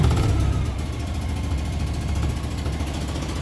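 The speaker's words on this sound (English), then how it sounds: "Let's rev it up a little bit." A running car engine, its mixture set rich and puffing a little black smoke, rumbles loud and steady up close, with a slight swell of revving near the start before settling into an even idle-like drone.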